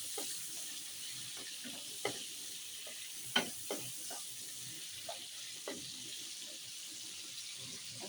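Prawns and green chillies frying in a pan give a faint, steady sizzle, broken by occasional soft scrapes and taps of a stirring spoon.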